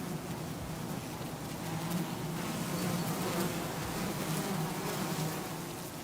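A huge honeybee swarm of roughly 100,000 bees taking to the air, a steady dense buzzing drone that holds evenly loud throughout with no other sounds.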